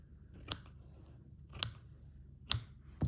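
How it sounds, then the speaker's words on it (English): Scissors cut through fabric with a seam while making Easter bunting for vintage dolls' clothes, giving three separate crisp snips spaced about a second apart against a quiet room. "I'm going to cut it here."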